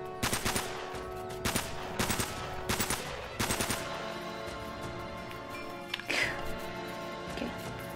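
Bursts of gunfire from Uncharted: Drake's Fortune, several sharp rapid volleys in the first four seconds, then a few scattered shots, loud and close, with game ambience underneath.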